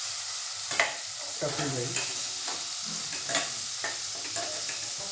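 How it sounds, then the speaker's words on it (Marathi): Tomatoes and coriander sautéing with onion in a pan for a Maharashtrian breakfast, with steady sizzling and frying and a few stirring scrapes against the pan, close and moderately loud, under a brief spoken phrase. "टॅमॅटो कोथिंबीर थोडीशी कांद्यासोबत परतवल्यानंतर त्याच्यामध्ये हळद ॲड करू"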